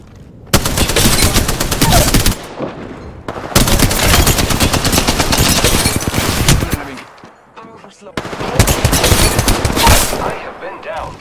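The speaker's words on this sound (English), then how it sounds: "Shots fired at me." Bursts of automatic gunfire from an Apex Legends firefight, three long loud volleys of rapid shots separated by brief pauses, close and dense, with faint game voice callouts underneath.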